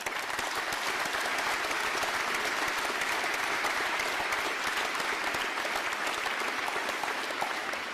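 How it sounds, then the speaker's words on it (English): Sustained, dense audience applause fills a Navy ROTC boot camp graduation ceremony at Holy Cross, steady and loud throughout with no break. "Let's give our friends and family and loved ones a round of applause"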